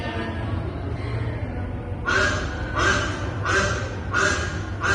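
After a quiet start, a duck lets out four loud, evenly spaced quacks, each one a short harsh nasal burst, with a brief gap between them.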